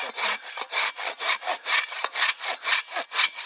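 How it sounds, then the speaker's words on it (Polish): A hand saw cuts through a wooden tree stump at a campsite, about a dozen rhythmic, evenly spaced strokes rasping back and forth close to the ear, loud and alone. "Ty już pniak piłujesz!"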